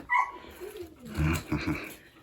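A small dog on a building site where a log house is being raised gives short whimpering, growly vocal sounds in brief bursts, close by.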